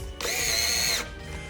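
A power drill drives a screw into the bracket of a K-9 III High Velocity Dryer, whirring in one steady, close burst just under a second long, then stopping.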